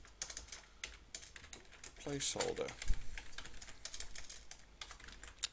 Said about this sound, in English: Sorry, terrible typing,